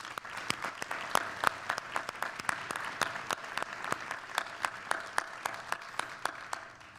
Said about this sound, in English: if I can get a round of applause for Dave Tomsky, please.